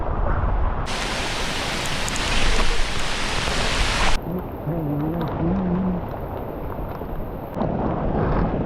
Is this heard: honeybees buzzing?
no